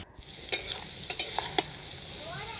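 Mango pieces frying in hot oil for a spicy sour pickle, a steady soft sizzle with a few sharp clinks of a spoon stirring against the pan, close up and with no voices.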